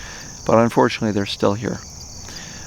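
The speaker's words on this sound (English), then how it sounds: "the noise that you're hearing, that little high-pitched, more I think crickets right now" Crickets chirp outdoors in a thin, high-pitched continuous trill that sits faintly in the background while someone talks over it.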